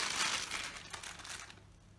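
A bag handled up close gives a short burst of crisp crinkling and rustling, loudest at the start and fading away over about two seconds.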